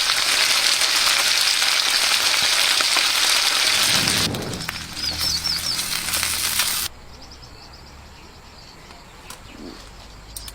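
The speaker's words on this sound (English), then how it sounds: "cook some meat again. Fried meat." Meat frying in a pan at a solo woodland campsite, a loud steady sizzle that drops away partway through, then a quieter hiss continues in the background.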